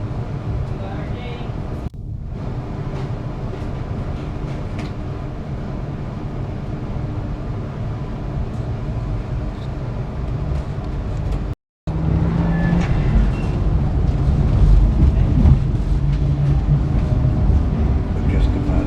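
Queensland long-distance tilt train pulling away from Caboolture, a steady low rumble and rolling hum of the train in motion throughout, with a brief dropout near the middle, and a voice talking over it.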